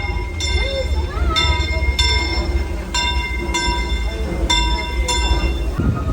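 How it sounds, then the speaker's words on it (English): The Disneyland Railroad train rolls past with a constant low rumble and repeated ringing metallic squeals at regular intervals. People talk over the noise. "It's a train. I'm so excited to ride Disney train again."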